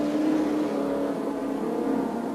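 A 1983 touring car at Lakeside raceway in a round of the Australian Touring Car Championship on a drying wet track, its engine droning and pulling steadily under gentle throttle, close and fairly loud with no voices.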